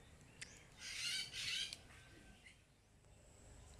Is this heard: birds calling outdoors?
yes